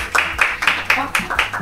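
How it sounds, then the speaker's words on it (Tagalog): A crowd clapping in a steady rhythm at an event, about seven distinct beats, moderately loud and close, with voices mixed in among the claps. "Humihina ang palakpak yan."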